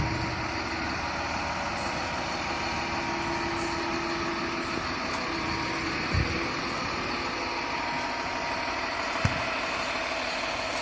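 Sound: engine of a crawler-tracked pile-driving machine idling

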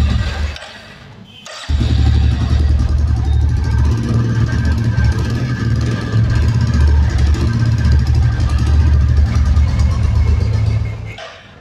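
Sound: Royal Enfield Classic 350 motorcycle exhaust and engine sound

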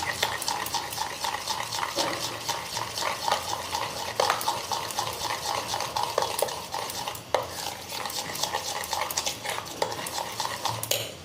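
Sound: stirring dhokla batter with Eno in one direction

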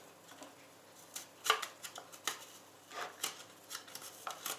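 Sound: grating garlic on a Soviet hand grater

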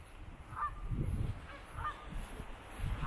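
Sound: geese honking

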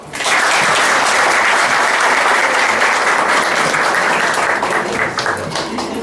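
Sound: audience applauding to welcome a speaker

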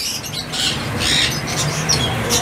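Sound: doves at a bird market shop

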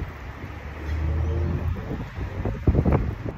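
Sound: wind blowing outdoors

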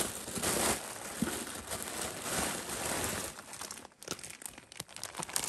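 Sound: tissue paper crinkling while unboxing

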